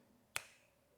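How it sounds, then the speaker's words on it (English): A single sharp finger snap, crisp and close, standing alone against a quiet room background with a short decay. "How fast is a finger snap?"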